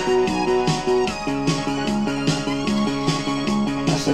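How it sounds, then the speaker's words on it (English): A song playing from a reel-to-reel tape through a tube amplifier, with a continuous full mix of rhythmic bass notes, melody and percussion at a steady, fairly loud level and no talking over it. "Could play a song from the reel to reel"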